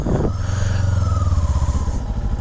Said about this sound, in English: So as soon as I start to open throttle,